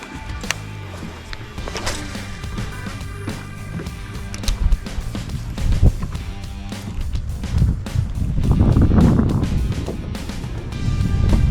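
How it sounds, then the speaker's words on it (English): Wind gusts across an open lake during fall bass fishing from a boat, a steady low rumbling buffet on the microphone that swells louder toward the end, with no talking. "Wind might be a thing today."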